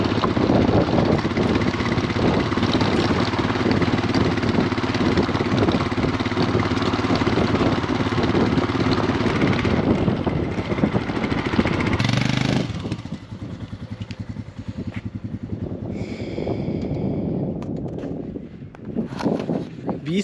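A motorcycle engine rumbles steadily and loudly during a ride on the mountain roads of Ladakh near Khardung La, then drops to a quieter idle-like putter for the final seconds.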